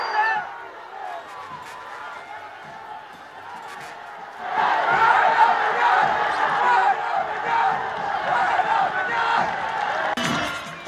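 A recording plays back a football crowd insulting a player at a Bolivian match. A voice talks over quieter crowd noise at first, then the crowd erupts into a loud, sustained chant and roar.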